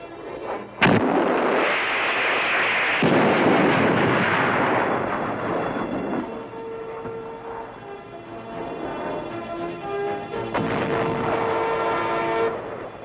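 A Red Eye shoulder-fired anti-aircraft missile launches with a sharp, loud crack followed by a sustained roaring whoosh of its solid-fuel motor, fading into a prolonged rumbling with tonal hums over several seconds.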